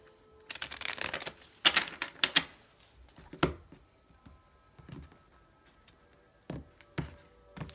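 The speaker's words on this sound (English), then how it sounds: "All right, final shuffle." A tarot card deck is shuffled in short bursts, crisp riffling flurries and light taps spaced out over several seconds, close and fairly quiet.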